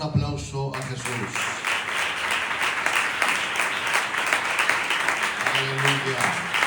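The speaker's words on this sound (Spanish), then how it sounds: "Dar un aplauso a Jesús." A church congregation breaks into sustained, steady applause that fills the room, with a voice and music-like tones briefly audible at the start and end.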